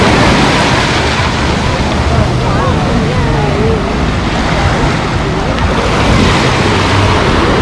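Sea waves surge and wash on Lazurny beach in Lazarevskoye, a loud, continuous roaring surf mixed with heavy wind buffeting close to the microphone.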